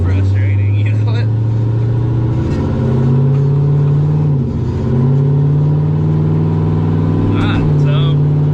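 A turbo LS engine in a Cutlass drones steadily while driving, a loud, even, low-pitched hum that dips briefly midway before settling back.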